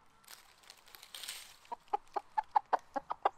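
A blind chicken clucks in a quick rhythmic series of short, close notes after a brief rustle at the start.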